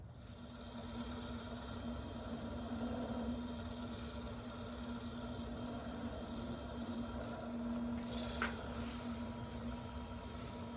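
A wood lathe spins a small cereal bowl of Manila tamarind wood at over 1100 RPM while wax is applied, giving a faint, steady motor hum with a constant tone and one brief click near the end.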